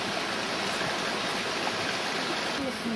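A 16-metre waterfall in Crimea roars close and loud, a continuous broad rushing of falling water with no pauses.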